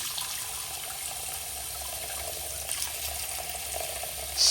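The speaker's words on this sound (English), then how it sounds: "Let's test the hot water." Hot water tap in a Waikiki hotel bathroom runs steadily into the sink, a moderate continuous splashing hiss with no talk, ending in a brief louder splash or clunk.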